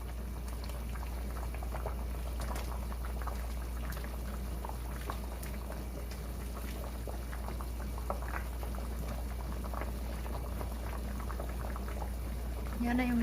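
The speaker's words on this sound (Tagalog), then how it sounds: "Haluin ko muna bago ko dagdagan ng seasoning." Soup boiling steadily in a pot on the stove, a continuous bubbling simmer with occasional light clinks and scrapes of stirring, heard up close throughout without talk.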